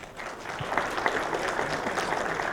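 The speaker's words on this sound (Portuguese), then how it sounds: "a fundadora da AD Digital, Daniela Souza, que recebe mais uma vez os aplausos de todos." Conference audience applauds for the founder of a digital company at a formal congress event, a steady, moderately loud wash of clapping from a hall-sized crowd lasting the whole stretch, with no one speaking over it.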